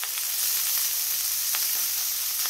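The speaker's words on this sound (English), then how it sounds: "when you're frying your meat" Steak sizzles steadily in a hot pan coated with meat fat and a little olive oil, a continuous hiss broken by a few small pops and spits.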